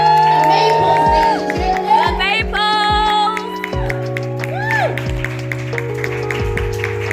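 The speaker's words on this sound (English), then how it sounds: "please give a round of applause for Mr. and Mrs. Mom" A church audience claps and cheers for a couple introduced by a guest speaker, with whoops and shouts rising over clapping while musical tones and chords play alongside.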